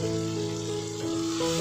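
Green chilli halves sizzle in hot oil in a pan while a Chettinad prawn curry is cooked, a steady, quiet frying hiss with no talking.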